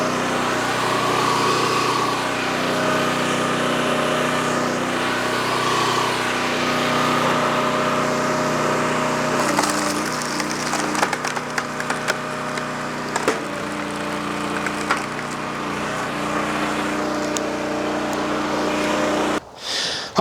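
A log splitter with a six-way wedge works through a 12-inch firewood round with a nasty knot, giving a steady loud engine drone with wood creaking and splintering, a brief strain midway, then a sudden stop near the end.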